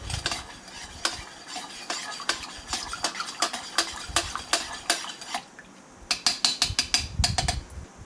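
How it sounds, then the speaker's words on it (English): Repeated clinks and scrapes of a utensil stirring MRE beef taco food inside a metal canteen cup, close up in irregular bursts with a short pause before a faster flurry of taps. "Give it a stir."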